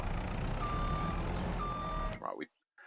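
Reversing beeps from a truck in Farming Simulator 22, a steady series of evenly spaced electronic tones over a low engine drone, cutting out abruptly near the end.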